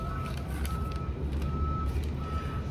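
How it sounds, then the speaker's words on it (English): Steady, high-pitched reversing beeps repeat from a truck, heard over a low rumbling engine and background noise. "Those are trucks."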